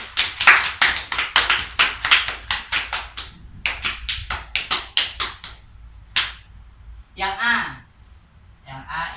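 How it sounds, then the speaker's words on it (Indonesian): Hand clapping in an algebra limits class, a quick run of sharp, close claps in uneven bursts from a few people, fading out before a short spoken word at the end. "Oke, tepuk tangan untuk kita semua."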